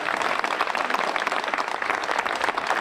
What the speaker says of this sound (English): So give it a great round of applause, our beautiful new park.